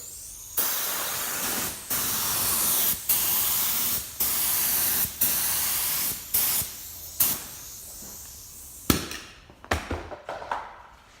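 An aerosol can lays down a full wet coat of primer in about eight hissing bursts, each roughly a second long and close by, ending in a few shorter spurts and clicks.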